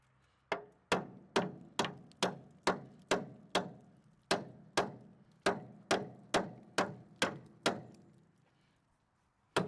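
A tool taps repeatedly on a metal part of an Esso tank wagon during the tank lift, knocking debris loose: about fifteen sharp, evenly spaced knocks, close and clear, each ringing briefly.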